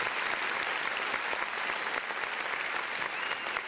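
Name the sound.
applause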